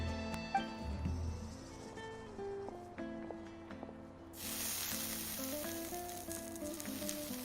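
Mushrooms frying in a pan in a video game, a loud steady sizzle that bursts in partway through and holds to the end over a low background tone.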